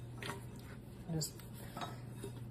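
Spoon stirring and swishing no-knead bread dough around the bottom of a mixing bowl, with soft scraping and a few light clinks against the bowl, fairly close and quiet over a steady low hum.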